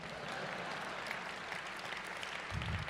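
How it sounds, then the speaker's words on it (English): Audience at the SXSW 2014 keynote clapping, a steady wash of applause throughout with a low rumble rising near the end. "let's clap it up for these freaks"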